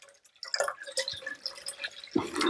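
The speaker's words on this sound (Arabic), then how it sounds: "احنا كده دلوقتي بنفضي ميه في الشفشق اهوت." Cold water is poured into a jug while making juice, splashing and trickling in uneven spurts with a few sharp drips, growing into a fuller rush near the end.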